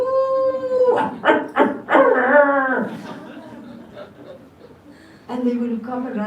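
A voice imitates dogs howling with a long rising and falling drawn-out wail, then a second shorter howl after a pause.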